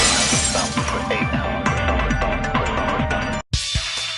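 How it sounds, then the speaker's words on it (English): A vase shatters in a video game on PS4, with a burst of breaking glass followed by scattering, tinkling fragments, loud and close, then a brief silence before the sound resumes. "If it wasn't the window, then what broke to make that sound? A vase."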